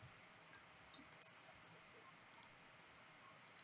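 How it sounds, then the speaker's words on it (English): A computer mouse is right-clicked several times, producing faint, sharp, isolated clicks spaced irregularly over a quiet background, with no talking. "I can easily just right click on it"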